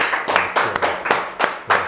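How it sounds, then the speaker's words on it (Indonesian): Hand clapping for Felix comes in a few loose bursts of sharp claps, close and fairly quiet, with short gaps between them. "Tepuk tangan dulu lah buat Felix ah"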